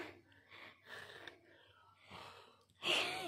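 A hiker breathes heavily after climbing a mountain, with rough, gasping breaths close to the ear in uneven bursts and a sharper, louder exhale at the end.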